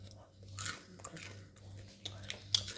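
Crisp freshly fried lentil fritters or fried pointed gourd being bitten and chewed up close, several short crunchy bites spaced across a quiet background with faint breathing.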